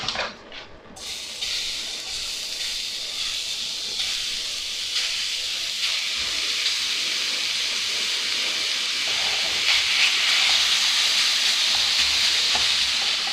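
Crocodile mince fries in a pan, giving a bright continuous hiss and sizzle that builds steadily louder, with occasional soft stirring scrapes and no voices.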